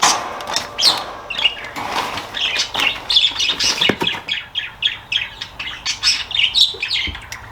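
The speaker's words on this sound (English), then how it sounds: "Oh, sorry, excuse the birds." Indoor birds chirp and squawk in rapid, irregular bursts, loud and close, with sharp calls packed densely across the whole stretch and occasional fluttering.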